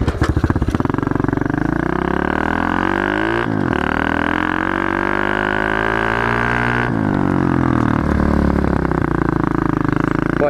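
A pit bike motorcycle engine roars loudly and close throughout a speed run, its revs rising and falling in long sweeping pitch bends with brief shifts around the gear changes.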